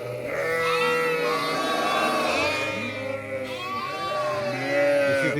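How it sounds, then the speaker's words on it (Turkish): Many farm lambs bleat for their mothers at once in a continuous, overlapping chorus of high, wavering calls, close and loud, with no pauses. "bütün kuzular annelerini arıyor"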